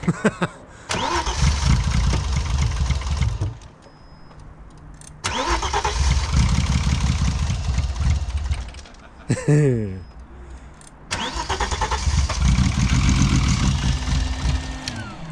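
An old, misfiring Vauxhall engine cranks over in three long bursts, catching and running roughly between attempts, loud and close, with occasional brief voices nearby.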